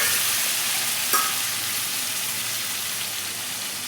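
Tomatoes sizzle steadily in hot oil in a pan while being cooked for a potato and cauliflower sabji, with a brief scrape of stirring near the start. The frying hiss is close, even and continuous, with no talking.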